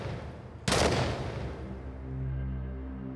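A single sharp gunshot cracks out loudly in a tense drama scene, followed by a decaying boom and a low lingering rumble.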